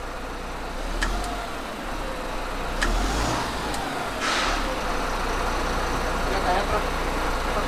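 Diesel engine of a Pindad Anoa armoured vehicle revved in neutral, a steady low rumble that swells slightly as the throttle is pressed, heard from inside the cab with occasional clicks.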